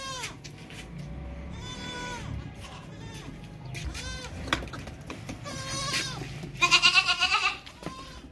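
Lone Nagra breed goat bleating, several loud wavering calls close by, the strongest near the end, over a steady background murmur of farm ambience.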